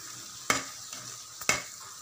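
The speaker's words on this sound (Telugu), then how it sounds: "స్టవ్ స్లిమ్లో పెట్టి మాడకుండా మసాలాలు మంచిగా కలపాలి" Okra masala curry being stirred in a frying pan over low heat, with two distinct scraping stir strokes over a soft, steady sizzle.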